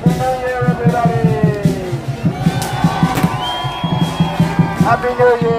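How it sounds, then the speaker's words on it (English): Crowd at a Lunar New Year parade in New York City's Chinatown cheering and shouting loudly and continuously, close by, with voices and whoops layered over a dense crowd roar. "Now let's have a cheer for the great Chinese American community."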